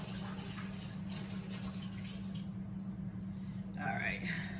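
Water is poured off soaking lima beans and black-eyed peas in a home kitchen, a soft trickling splash under a steady low hum, growing louder briefly near the end, with a voice speaking quietly.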